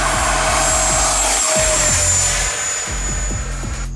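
A Freewing EF2000 Typhoon 90mm electric ducted-fan RC jet roars steadily overhead, a continuous high whine with a constant rushing hiss that holds level the whole time, with no voices.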